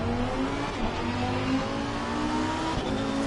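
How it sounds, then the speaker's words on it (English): Race car engine in the Assetto Corsa Competizione racing game, a steady loud droning roar with shifting pitch throughout, close and continuous with no talk. "you can hear the car and the engine and things"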